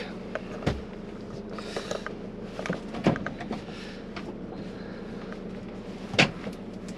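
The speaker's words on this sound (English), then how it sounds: "If it then gets stuck, pull the seat forward, and then you'll be able to spin it round into the back." A swivel seat in a Malibu 540 camper van is turned around, giving a few scattered thumps and clunks over a quiet interior background.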